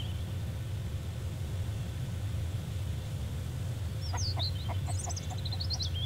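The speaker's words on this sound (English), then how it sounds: "I hear a chicken." Several short chicken clucks in a quick burst, fairly distant over a steady low rumbling ambience in a survival game's outdoor setting.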